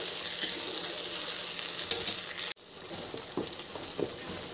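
Spice paste tipped onto potatoes frying in a pan for a vegetarian mushroom dish, giving a steady close sizzle with scraping stirs; a sharp clatter midway is followed by a quieter, crackling sizzle.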